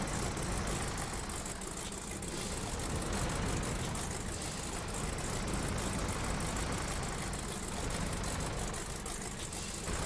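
An old tractor engine in the video game Tractor Touchan runs at a steady, droning idle, a continuous rough rumble with no pauses, fairly quiet and unaccompanied by talk.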